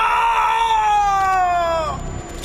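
A man screams in pain in a Hindi audio drama, a long sustained cry whose pitch slowly slides downward over about two seconds, loud and close, before breaking off into a fainter tail.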